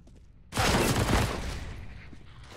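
Rapid SMG gunfire in a competitive multiplayer shooter playoff match erupts suddenly and loudly after a quiet half-second, then keeps going as a dense, sustained burst that slowly eases in volume.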